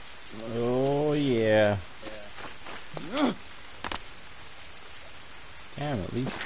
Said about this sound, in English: raining, huh?